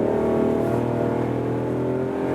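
A Toyota Aygo X Cross with its top open accelerates from 30 km/h, its small engine droning up steadily in pitch, loud and close with no talk.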